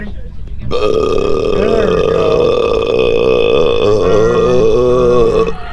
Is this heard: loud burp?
yes